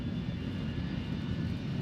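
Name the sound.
airplanes taking off and landing near an airport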